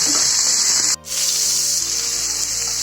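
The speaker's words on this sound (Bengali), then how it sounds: "পেঁয়াজ কুচি, হাই ফ্লেমে একটু নাড়াচাড়া করে নিচ্ছে।" Chopped onion and capsicum sizzle in a pan on high flame as they are stirred, a loud, steady hiss with a brief scraping break partway through.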